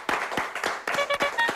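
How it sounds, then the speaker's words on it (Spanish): Brief burst of studio audience applause welcoming a guest onto a TV show, quick rhythmic claps from a small crowd close by. "la recibimos con un aplauso"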